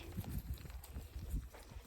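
A young male donkey foal moves around on a farm, its hooves giving soft, uneven thuds and clip-clops close by, with no talking.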